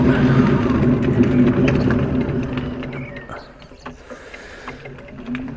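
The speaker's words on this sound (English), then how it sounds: "And again I will do the rear brake." A cargo bike's rear wheel is brought to a stop by a newly fitted hydraulic rear brake, its rolling rumble and mechanical whir fading as the bike slows, with speech heard over it.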